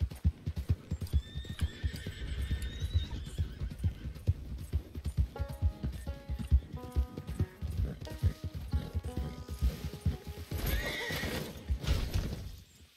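Horse neighing and whinnying in the Red Dead Redemption 2 game, with steady hoof clip-clops and a busy game soundtrack layered over the hooves throughout.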